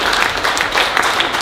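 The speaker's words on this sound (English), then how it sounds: "Clap if you were hit." Brief burst of audience applause in a stand-up comedy venue, a dense, loud patter of many hands clapping together for just over a second.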